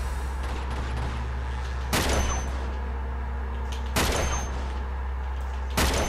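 Gunfire in Uncharted 2: Among Thieves at a mountain monastery, three sharp, loud broadband shots spaced about two seconds apart over a steady low rumble of game ambience.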